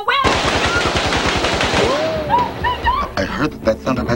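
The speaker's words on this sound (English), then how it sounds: "I heard that sounded like gunfire." A rapid burst of automatic gunfire rattles loudly for about two seconds, followed by scattered shots and voices.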